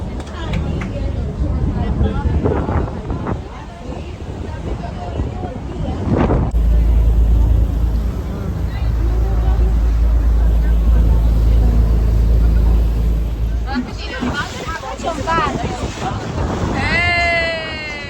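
A tour boat motors away from the dock with a steady low engine rumble and heavy wind buffeting the microphone, while a voice talks over it at the start and end.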